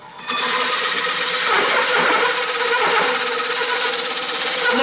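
A power drill fitted with a holesaw cuts into a partly started hole, running loud and steady throughout with a sustained whirring grind.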